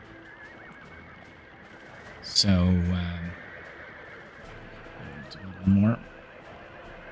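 Horses neighing in the city-building game Workers & Resources: Soviet Republic: two distinct whinnies, the first longer and louder, the second short, over a steady ambient game background with someone talking.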